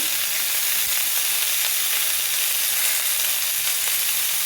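Cumin seeds frying in hot oil with turmeric, giving a loud, dense, steady sizzle and crackle that runs unbroken throughout, close up and alone.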